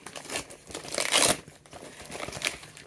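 Tape crinkles and rips close by, with bursts of crumpling and tearing noise, one sharp pull in the middle, no talking.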